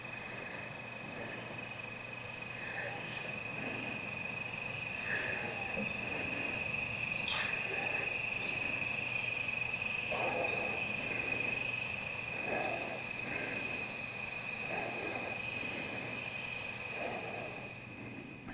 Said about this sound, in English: now I can kind of grow these crickets into the space